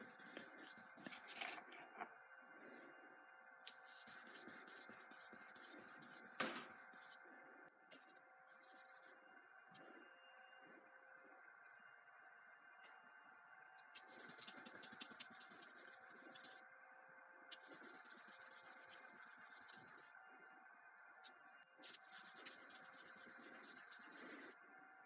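A chef knife handle is hand sanded with 1000 grit sandpaper in repeated bursts of quick back-and-forth rubbing strokes with short pauses between them, fairly quiet and close.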